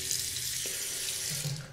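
Water runs from a bathroom tap or shower in a house in a Mexican jungle town, a steady close splashing hiss lasting under two seconds, with no voices.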